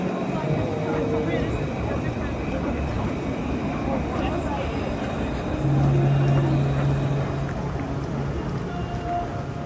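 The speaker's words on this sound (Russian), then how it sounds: "это трамвайчик проезжает" A tram rumbles past close by with a steady, heavy roar, and a low humming tone rises over it for a few seconds midway.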